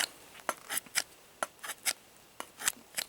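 A Bark River Bravo 1.5 knife with a CPM 3V steel convex edge carves wood in short, crisp scraping strokes, about ten quick rasps in an uneven rhythm, close and fairly quiet.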